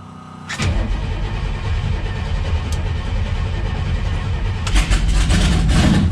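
A 1965 Impala SS drag car's engine cranks briefly, then fires and settles into a loud, steady running rumble that swells slightly toward the end, with no talk over it.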